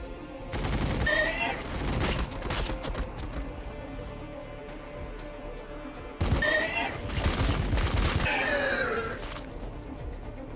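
Units shooting in the Battlesector strategy video game: two loud clusters of rapid gunfire bursts with crashing impacts, separated by a quieter stretch of battlefield noise.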